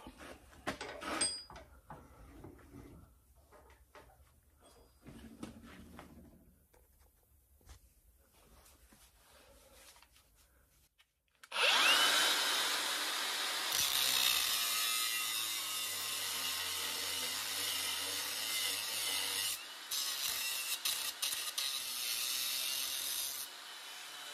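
Parts are cut off a 1972 VW Super Beetle during rear truss bar work: quiet clicks and handling noises give way halfway through to a loud, continuous harsh cutting roar that persists to the end.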